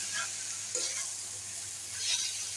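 Mixed vegetables fry in a pan with a soft continuous sizzle while being stirred, a few faint scraping stir sounds rising and falling, close and quiet with no talk.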